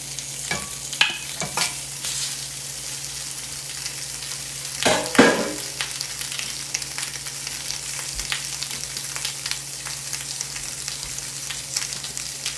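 Sausages fry in a cast iron pan with a steady, soft sizzle, broken by a few scraping stirs and clunks of a utensil, close and continuous.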